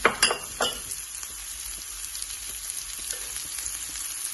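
Frozen vegetables frying in a pan for SPAM fried rice, with a few sharp clinks and crackles at the start settling into a soft, steady sizzle, close and moderately quiet.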